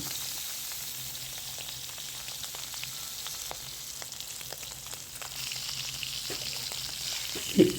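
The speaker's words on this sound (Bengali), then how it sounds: "তেল দিব মাছ ফ্রাই করবো" Jatka fish, a small hilsa, frying in hot oil, a steady close sizzle running throughout with occasional faint utensil taps and a sharper clink near the end.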